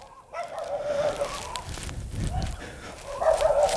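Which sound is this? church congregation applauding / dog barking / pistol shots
dog barking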